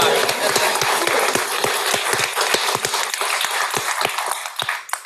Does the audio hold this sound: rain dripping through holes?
no